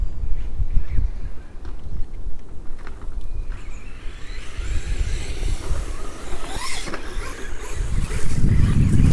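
An FTX Zorro RC car drives across sand outdoors, its motor and tyres churning steadily in the mid-distance. Heavy wind noise buffets the microphone throughout, and a louder gust or burst of driving rises at the end.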